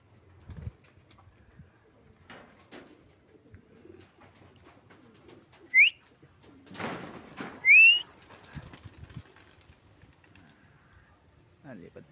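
Racing pigeons flying near a loft, with soft cooing and two brief bright whistle-like calls standing out over quiet rustling and faint background talk.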